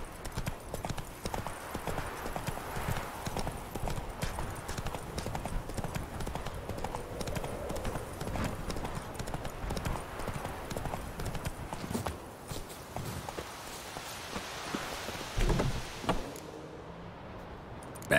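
A horse gallops in The Witcher 3: Wild Hunt, the quick, even clip-clop of its hooves drumming for most of the stretch at moderate loudness before slowing and stopping near the end.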